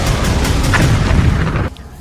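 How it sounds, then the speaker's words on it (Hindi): A loud, sustained boom of an explosion in Lebanon rumbles for about a second and a half in a news report, then cuts off abruptly into quiet. "लेबनान में तेज धमाके की आवाज गूंज रही है।"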